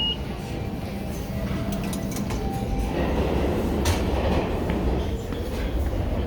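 A New York subway train rumbles steadily with wheel clatter on the tracks and occasional squeals, continuous and loud throughout as if heard from inside or beside the car.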